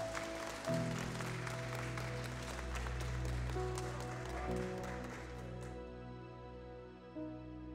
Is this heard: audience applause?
yes